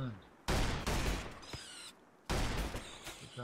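Gunfire from colonists fighting beavers in the colony game Rimworld sounds as two dense, loud volleys of rattling shots separated by a brief quieter gap.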